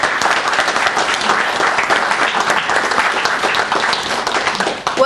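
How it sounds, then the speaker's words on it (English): Sustained, dense applause from a group gathered in a 911 call center training room, steady and fairly loud throughout with no voices standing out. "everybody here needs to give themselves a round of applause"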